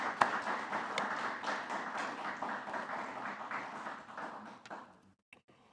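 Applause at a National High School Football Hall of Fame event honours the members. It is a room of scattered, distinct claps that thins out and stops after about five seconds, leaving near silence.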